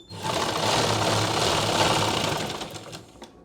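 A sewing machine runs steadily while stitching a pair of pants, a brief loud continuous whir that starts abruptly, holds for about two and a half seconds, then winds down.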